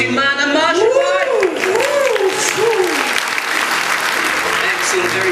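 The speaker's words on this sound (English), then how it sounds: "Give them all a massive round of applause." Audience at a hypnosis show in a theatre bursts into loud, sustained applause, with voices and whoops rising over the clapping throughout.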